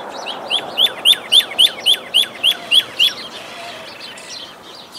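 Birds chirp outdoors in a quick run of about ten bright, evenly spaced tweets, then a softer scattered twittering trails off over faint background hiss, with no talking.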